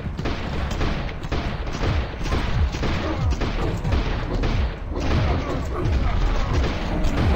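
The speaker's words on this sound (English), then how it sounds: "That's what it was a grenade from the giant twat" A grenade goes off in a video game amid dense booming gunfire, loud overlapping thuds and crashes rolling on throughout with almost no pause.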